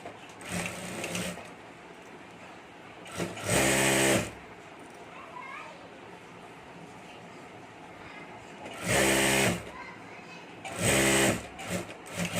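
Sewing machine stitching a zip onto a handmade hand bag: several short loud bursts of rapid mechanical whirring and clatter, separated by quieter stretches of background noise, close to the machine.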